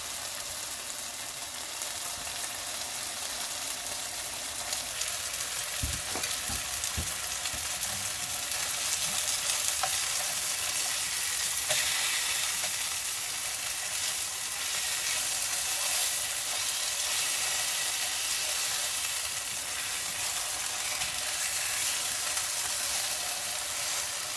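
Food frying on a cheap £13 camping cooker: a continuous close, bright sizzle and spatter with occasional soft knocks, steady throughout with no talk.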